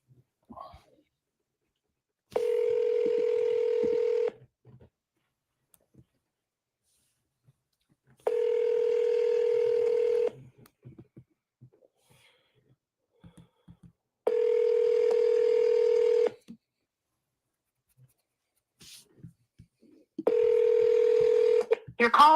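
Four long telephone ringback tones sound in an evenly spaced sequence a few seconds apart, each a steady buzzing tone with quiet gaps between, as an outgoing call rings unanswered.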